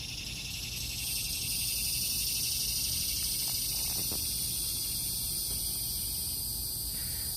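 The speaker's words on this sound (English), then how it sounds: "And I'm sure you hear the cicadas too." Cicadas drone in a steady, high-pitched buzz that carries on unbroken throughout, fairly loud, with no one talking.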